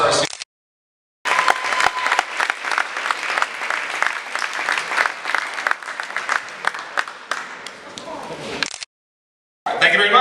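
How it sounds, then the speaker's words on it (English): A crowd at a high school award ceremony applauds with sustained clapping for several seconds, bracketed by brief silences at the start and end. "One last round of applause for our seniors."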